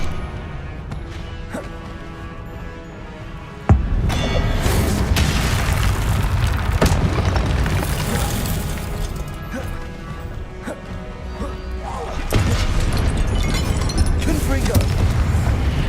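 Confringo blasting spells explode in Hogwarts Legacy combat. A loud crash near 3.7 seconds is followed by a dense stretch of booms and smashes, then a renewed surge of blasts around 12 seconds.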